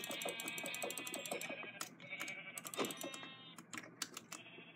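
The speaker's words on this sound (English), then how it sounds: "Ah, sheep." A Minecraft sheep bleats in short repeated wavering cries amid rapid clicking of computer keyboard keys, both close and moderately loud.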